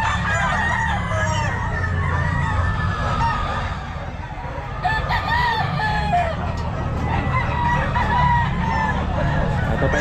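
Several stag gamefowl roosters of the Sweater breed crow and cluck at a busy pet market. Repeated cock-a-doodle-doo calls overlap near and far over a constant background murmur, with brief soft voices.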